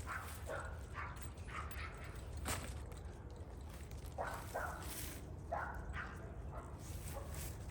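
A dog outside gives a run of yips and short barks mixed with whimpers, spaced irregularly and moderately near, over steady low background noise.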